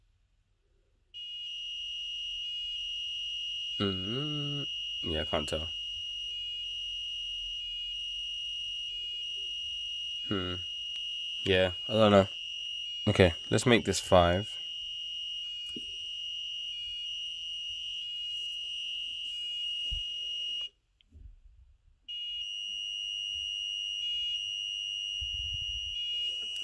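An active buzzer on an Elegoo Uno R3 Arduino sounds a loud, continuous high-pitched tone that pulses in a fast stutter, broken by a short gap, while someone speaks briefly over it.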